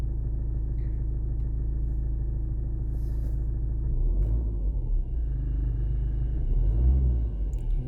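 A Renault Megane engine idles with a steady low rumble, then swells louder as the throttle is pressed, heard from inside the car with no talk.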